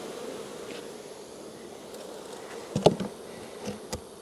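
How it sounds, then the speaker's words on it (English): Honey bees hum steadily around an open hive during a honey harvest with a hive lifter, a soft continuous drone with a few louder passes as bees fly close to the listener. "now I have got bees investigating."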